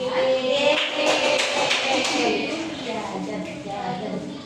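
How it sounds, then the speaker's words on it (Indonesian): A school class claps hands together in a classroom, a busy patter of many small hands that peaks early and then fades, with children's voices chattering throughout. "Baik, tepuk tangan untuk kita semua."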